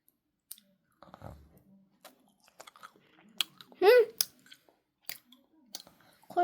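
Someone eats soda-flavoured jelly candy up close, with soft wet chewing, sticky smacks and sharp little clicks scattered through quiet gaps, plus a brief vocal hum in the middle.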